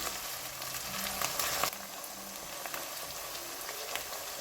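Crushed green chillies frying in a pan with garlic and ginger for an aloo gobi dish, a soft, even sizzle with a brief louder burst, fairly faint and without voices.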